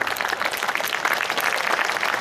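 A crowd at a Hindi poetry gathering breaks into applause, a dense wash of many hands clapping at moderate loudness that stays steady for the whole moment.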